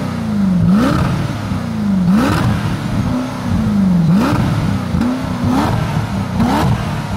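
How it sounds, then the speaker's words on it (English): Guttural supercar engine with a six-speed manual gearbox, revved hard in about five repeated blips that rise and drop back. Loud and close, with no talk. "It's a very guttural engine when you hear the car running."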